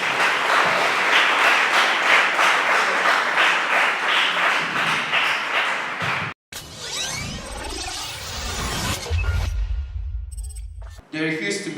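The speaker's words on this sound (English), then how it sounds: "Let's give him a round of applause." An audience at a schools debate competition grand final applauds the chief speaker, a dense burst of clapping lasting several seconds before it breaks off into other, quieter sounds.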